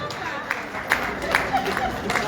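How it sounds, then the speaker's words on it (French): Theatre audience applauding at a ceremony honouring female icons of Congolese theatre: faint, steady clapping with a few sharper claps standing out. "on applaudit très très très très fort"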